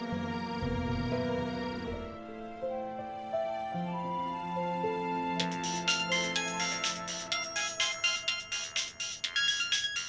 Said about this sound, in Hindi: सुमन का फोन